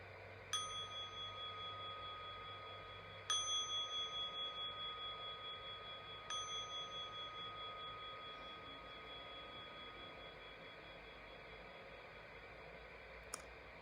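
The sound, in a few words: meditation bell ringing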